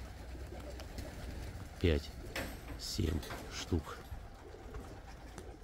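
Several white pigeons coo in short, soft bursts amid a flock of about a hundred birds, with a few distinct coos standing out over low background noise while someone speaks nearby.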